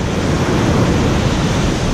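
Ocean surf on a beach breaks and washes back as receding white water, a loud, dense, continuous rushing hiss close to the microphone.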